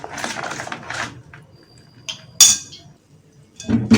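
A metal spoon clinks and scrapes against a bowl while stirring sugar into homemade liquid soap, in several uneven bursts, with quiet pauses between the stirring strokes.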